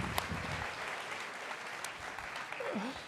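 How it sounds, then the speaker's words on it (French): An audience at a Geneva sports awards night claps steadily for a singer after her song, a dense wash of applause with a brief voice rising near the end. "on peut l'applaudir encore"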